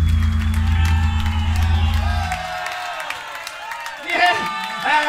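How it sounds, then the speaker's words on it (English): A crowd at a hardcore punk show bursts into cheers, whoops and clapping for a birthday after a sustained band drone fades out. The short, lively outbursts are mixed with shouting voices. "Someone clap. It's his birthday, man."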